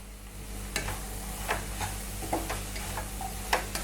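Chopped capsicum stirred into frying masala in a pan for a sweet corn curry, soft steady sizzle with a series of light scraping ticks from the spoon at an irregular pace, close and quiet.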